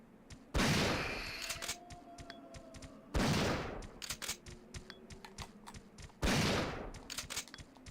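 Three loud gunshot blasts in Resident Evil 3 Nemesis on PS1, evenly spaced a few seconds apart, each followed by a decaying echo and scattered clicking game sounds.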